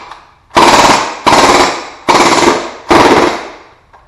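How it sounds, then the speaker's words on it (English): A G&G MP5K gas blowback airsoft gun, running low on propane, fires four loud, sharp bursts of rapid rounds close up, each burst followed by a brief pause. "so we'll see if we can get some rounds out"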